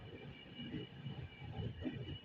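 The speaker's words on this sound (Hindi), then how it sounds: "पूरी राउरकेला वंदे भारत एक्सप्रेस थी वो।" The Puri–Rourkela Vande Bharat Express crosses at a railway station, a steady low rumble of passing rail cars heard faintly from a distance with no talk over it.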